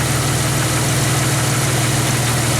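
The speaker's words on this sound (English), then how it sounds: "Now that we got the Jeep fired up" A Jeep engine idles just after starting, a loud, steady low hum with constant vibration and no change in pitch, and no one talking over it.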